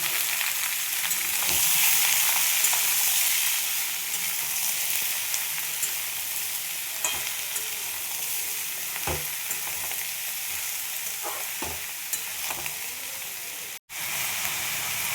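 Bottle gourd and shrimp fry in a pan, a steady broad sizzle with occasional stirring scrapes and clinks, close and continuous, with no talking.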